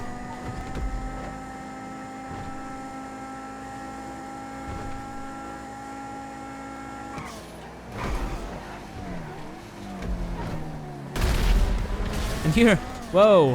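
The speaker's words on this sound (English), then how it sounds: "He drove into it and caused that explosion, which was quite scary at that moment." A car in GTA V crashes into a gas station and sets off an explosion, loud bursts and rumbling over racing engine drone, with someone talking excitedly.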